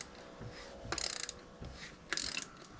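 A tight plastic fuel filter being unscrewed on a Mercury Optimax DFI 90hp two-stroke outboard, two short bursts of grinding, ratcheting clicks close by, quiet in between.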